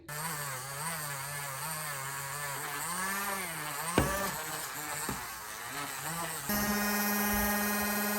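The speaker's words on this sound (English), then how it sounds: "I'm gonna do a final buffing with my Dremel tool to get a little bit more of a shine to them." A Dremel rotary tool buffs small clay pieces with a steady high buzzing whine that wavers in pitch as it presses against the work, punctuated by a few clicks, then shifts to a higher, steadier drone.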